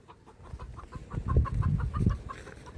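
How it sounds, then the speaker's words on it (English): A chicken clucks in a quick repeated series, close by, with a low rumbling noise swelling underneath midway. "Because the chicken was making noise."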